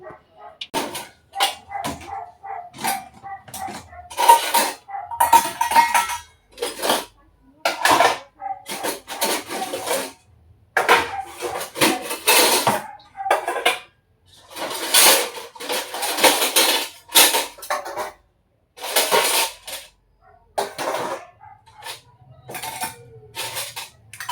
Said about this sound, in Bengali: এখানে থালা বাসন মেজে নিয়েছি চলো এবার এগুলোকে গুছিয়ে নিই